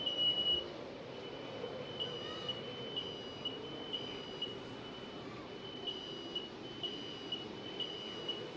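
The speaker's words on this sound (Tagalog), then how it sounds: "Among smoke alarm." A smoke alarm inside a house chirps at a steady, regular pace, each short high-pitched beep repeating about every half second over a low background rumble, with no talk.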